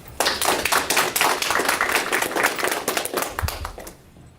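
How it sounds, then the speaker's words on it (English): A seminar audience claps for the incoming speaker, a close, dense round of applause at full strength that tails off near the end. "let's give her a big round of applause to get seminar started."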